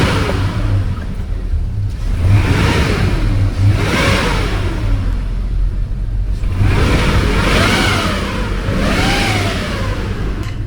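Supercharged 2003 Chevrolet Suburban engine at an auto wrecking yard, revving repeatedly in loud, rising and falling swells over a steady idle rumble, with no one talking.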